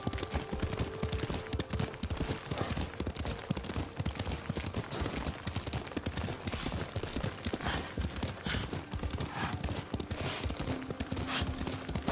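A horse gallops in the video game Ghost of Tsushima, with rapid, continuous hoofbeats under a dense, noisy game soundscape throughout.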